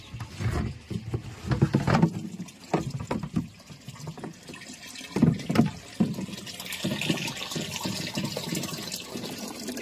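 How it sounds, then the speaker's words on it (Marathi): Water runs through a pipe into a 1000-litre storage tank fed by rainwater harvesting, giving a steady splashing, gurgling flow with uneven surges and bursts close by, and no talking. "1000 लिटरची टाकी पूर्ण भरल्यानंतर या पाईपद्वारे हे पाणी या टाकीत येते"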